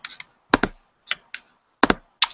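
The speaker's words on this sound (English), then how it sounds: "Sorry for the clicking." Bursts of computer keyboard clicking in irregular clusters, sharp and close, with quiet gaps between them and no voices.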